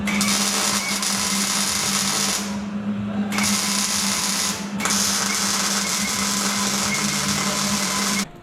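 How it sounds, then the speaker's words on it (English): Loud, steady buzzing and crackling of welding runs in long bursts, with two brief pauses between them. "instead of wrestling with this thing, I figured I would just weld it all together"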